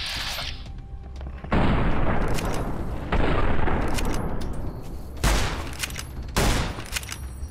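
Gunfire in the video game Enclave Commander: several loud bursts of rapid shots and booms separated by brief lulls, with no talk over them.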